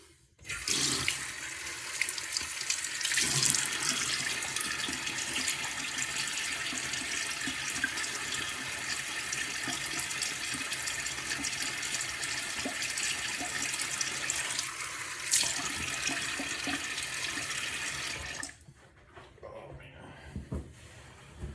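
Steady rush of water from a bathroom tap running into a sink for nearly twenty seconds while wetting the face before a wet shave, then cutting off abruptly into near quiet.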